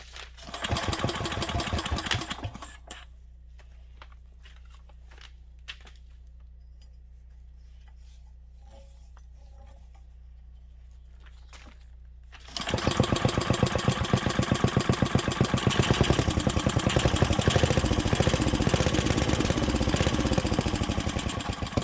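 A 1967 Briggs and Stratton small engine runs loud and close with a steady chugging idle, cuts out for about ten seconds of near silence, then fires back up and keeps running at a strong steady pace.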